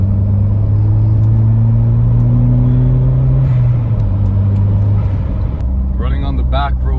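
A 1990s Volvo 940 Turbo driving on twisty back roads, with a loud interior engine drone that climbs, then drops and settles as the car moves through corners. A voice briefly cuts in near the end.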